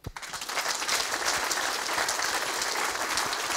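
Audience applause fills a building opening ceremony, a dense sustained wash of many hands clapping that begins suddenly and holds steady throughout.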